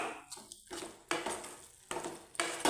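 A spoon scrapes and knocks against a pan as beetroot pickle is stirred with vinegar, giving a few distinct clatters separated by brief quieter scraping.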